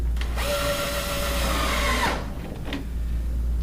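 Power drill driving a screw through a pre-drilled hole in a window balance channel, one close whirring burst of about two seconds with a rising tone, then a faint click.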